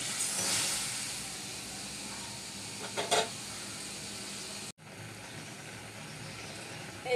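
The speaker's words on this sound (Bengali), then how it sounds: "এই তো আমার ঝোলটা বলক দিয়ে এসেছে।" A curry broth with ridge gourd and prawns boils in a pot, giving a soft, steady hiss and bubbling sizzle with a few brief clinks, close and fairly quiet, with no talking.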